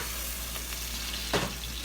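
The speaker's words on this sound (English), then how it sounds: "Our onions have been sauteing real nice." Onions, Kalamata olives and capers sauté in olive oil with a steady, soft sizzle, broken near the end by one brief stir or clatter in the pan.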